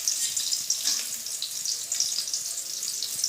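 Tomato, onion and fresh coriander frying in refined oil in a pan, a steady close hiss and sizzle with crackling spits that runs throughout without a break.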